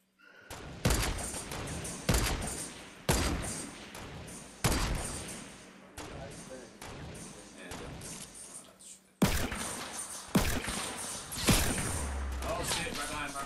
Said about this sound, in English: shots from north, 355